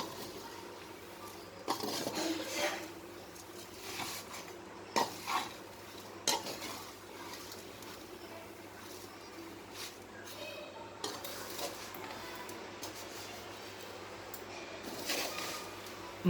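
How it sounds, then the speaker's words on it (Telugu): Flattened rice (poha) is fried in ghee in a pan over low heat, with a faint sizzle under repeated scraping and clinking of a spoon against the pan. "నేతిలో అటుకుల్ని వేయించుకోవాలి."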